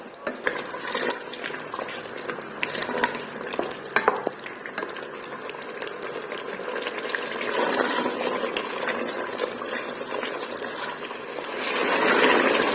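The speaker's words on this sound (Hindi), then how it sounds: "अब हम इसमें 3 से 4 चम्मच तेल डालेंगे और मजीद इसको अच्छे से भून लेंगे।" Tenderized beef sizzles steadily in a few spoons of hot oil in a pan, with continuous frying hiss and stirring noise throughout.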